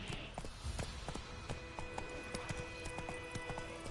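A horse named Roach trots in a video game, its hooves making a faint, steady clip-clop rhythm in a quiet outdoor soundscape.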